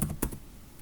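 A single Enter keystroke on a computer keyboard with a sharp click, then a lighter click, close and alone, with no talk.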